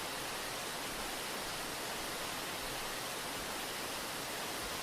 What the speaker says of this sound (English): where did this waterfall come from?